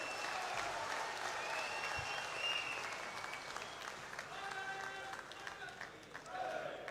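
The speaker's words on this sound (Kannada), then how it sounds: "ಜೋರಾದ ಚಪ್ಪಾಳೆ" A large crowd at an outdoor bridge inauguration ceremony applauds loudly and steadily, a dense wash of clapping that holds for several seconds, with voices and public-address speech mixed in beneath it.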